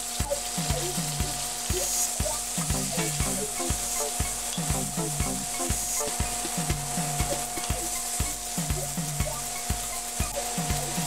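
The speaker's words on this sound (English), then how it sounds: "Cook these onions about 3 to 4 minutes just to soften them and begin to scrape the bottom of the pan" Onions soften in a pot where beef was seared for pot roast, sizzling steadily while a utensil scrapes the pan bottom in a quick, regular rhythm of knocks and scrapes.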